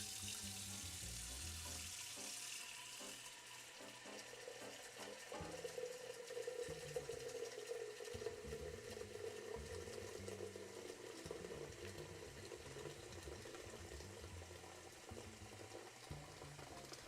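Tap water running into a tall pasta pot, a steady rushing splash with a rising tone as the pot fills, heard close and alone.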